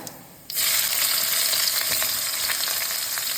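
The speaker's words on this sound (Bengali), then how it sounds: "পেঁয়াজটাকে একটু ভাজা ভাজা করে নেব।" After a brief quiet moment, chopped onions hit hot oil and a loud, steady sizzling hiss begins and continues close up to the end.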